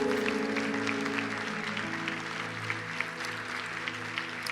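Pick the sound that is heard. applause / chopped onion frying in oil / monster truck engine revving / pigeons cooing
applause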